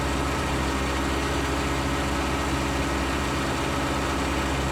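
Case IH T8 tractor engine in Farming Simulator 19, idling at a steady, loud low rumble throughout a snowy winter farm scene, with no talk.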